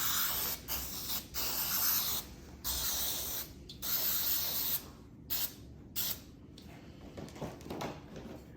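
Spray adhesive hisses from an aerosol can onto car door panels for a custom G-body Grand National build, in a series of long close bursts separated by short pauses, then a few shorter sprays.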